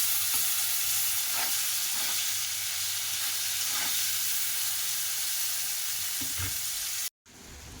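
Potato and eggplant frying in a pan, a loud, even hissing sizzle running almost unbroken, with faint stirring thumps now and then before a sudden cut near the end.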